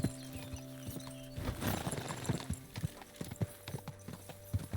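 Horse hooves gallop in a steady clip-clop rhythm during a horse race in Kingdom Come: Deliverance II, with a brief burst of noise and faint game ambience around them.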